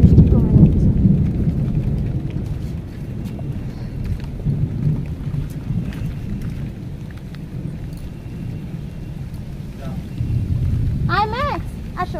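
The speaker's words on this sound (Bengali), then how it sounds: "কত জোরে বৃষ্টি হচ্ছে না" Heavy rain pours down in a steady, dense roar with low rumbling that suggests thunder, while a dog's whine or brief yelp rises near the end.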